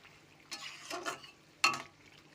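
Pieces of fried hilsa fish drop into boiling water in a pan, giving a few short hissing splashes and bubbling bursts, the last one loudest, in an otherwise quiet kitchen.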